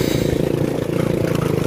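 A supermoto motorcycle engine revs hard and loud close by on a rocky road, a dense rattling roar that holds steady throughout.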